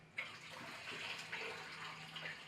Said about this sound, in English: And this is how you flush.